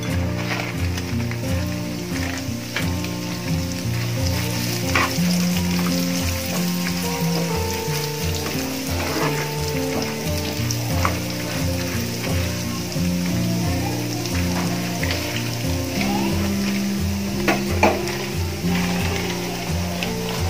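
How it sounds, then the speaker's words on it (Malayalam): Roasted gram is frying in hot oil for a bakery-style snack mixture, with a continuous crackling sizzle that stays fairly loud and even, under a faint background tone. "ഇനി നമുക്ക് ഇതിലേക്ക് പൊട്ടുകടല ഈ എണ്ണയിലേക്ക് ഒന്ന് ആഡ് ചെയ്യാം"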